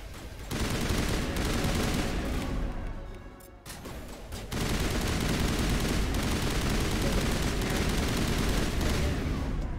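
Sustained automatic gunfire and overlapping weapon bursts in a Mass Effect 1 firefight on Feros against mercenaries, loud and dense nearly throughout, with a brief lull near the start before the shooting resumes.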